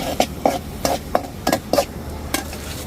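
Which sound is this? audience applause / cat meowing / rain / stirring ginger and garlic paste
stirring ginger and garlic paste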